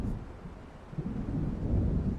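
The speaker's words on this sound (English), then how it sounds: "It seems there's a storm coming." Low, rolling thunder from an approaching storm in Alan Wake Remastered, a distant continuous rumble that swells slightly near the end, with no voices.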